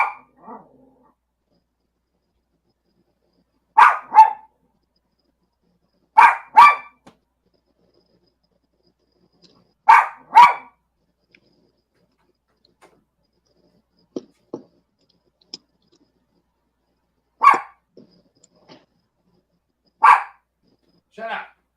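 Indoors at home, a dog barks repeatedly in short double and triple bursts spaced a few seconds apart across about twenty seconds, moderately loud and close, with a few faint clicks between barks.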